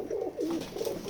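Pigeons at a pigeon farm in Betikhola village, Keshabpur, Jessore coo in low, throaty, rolling phrases, several overlapping calls close by with no talk.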